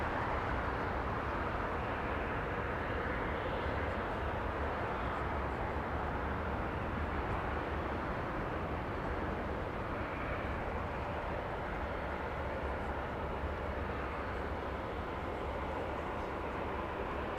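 An airliner at Los Angeles International Airport, heard as a steady, fairly quiet broadband roar that holds evenly without breaks.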